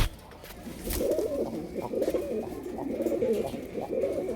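A pair of pigeons, a male and a female, coo in a steady run of soft, repeated low calls, close by and without talk.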